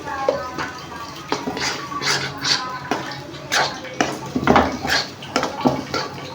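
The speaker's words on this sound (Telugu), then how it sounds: "షుగర్ వేసుకొని కలుపుకోవాలి." Sugar stirred into gram flour for laddu, a spoon scraping and clinking against a metal bowl in irregular close strokes, with light rustling between hits.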